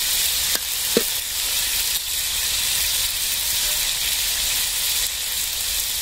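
Ground pepper, cumin and fennel paste added to frying country chicken, a steady loud sizzle and hiss throughout with a couple of brief stirring clicks near the start.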